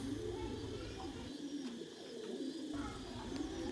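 Thai Titan pigeons in rows of stacked cages coo softly and repeatedly, with low murmuring calls running through the whole stretch over a steady background hum.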